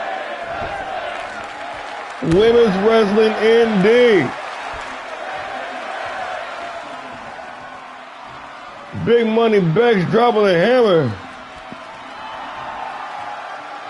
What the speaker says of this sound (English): This crowd is losing their shit up in here.